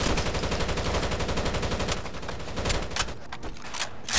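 Sustained rapid gunfire in Rainbow Six: Vegas 2, a dense stream of close automatic shots fired down a stairwell, steady at first and then thinning into scattered bursts.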